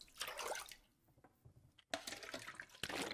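Water being collected in The Long Dark, a survival game: splashing, gurgling liquid sounds in two bursts separated by a brief quieter stretch, fairly close and continuous.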